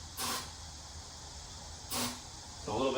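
Aerosol starting fluid sprayed onto a tire during tire stretching gives two short hissing bursts about a second and a half apart, with a quieter scrape following at the end.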